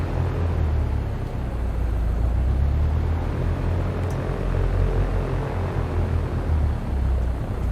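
An airplane engine in a flight simulator game throttles up for taxi to the runway, a steady low droning rumble that holds loud and even throughout with no talk.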